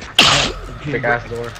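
A single sharp, loud sneeze bursts out near the start, close by, followed by people talking.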